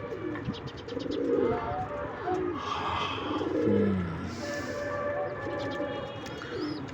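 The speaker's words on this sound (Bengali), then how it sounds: "কবুতরের মনে হয় খোদা লাগছে ওদেরকে সবাইকে খাবার দিতে হবে" Pigeons coo repeatedly in low, throaty rolls, with chirping birds and faint background noise around them.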